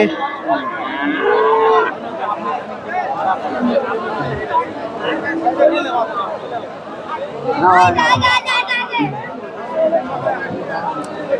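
Friesian heifers mooing at a rural cattle market, several loud nearby calls rising over a steady hubbub of crowd chatter and bargaining voices throughout.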